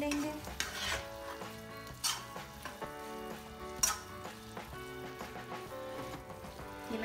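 Chicken with spring onions is fried lightly in a pan over a high flame. A soft sizzle sits beneath clattering utensil scrapes and a few sharp metallic clinks, and one word is briefly spoken.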